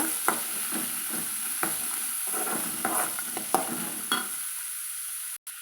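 Chopped carrots sautéing in a pan for a chutney, soft sizzling under repeated spatula strokes in an uneven rhythm, which stop near the end, leaving a quiet hiss.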